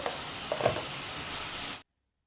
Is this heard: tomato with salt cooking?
yes